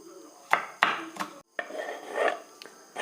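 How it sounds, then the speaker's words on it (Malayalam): A knife finely chopping green chillies on a board for onion vada, giving a few sharp, irregular chops close by between quieter scraping and handling, with no talk. "ഇനി നമുക്ക് പച്ചമുളക് ഒന്ന് പൊടിയായിട്ട് അരിഞ്ഞെടുക്കണം"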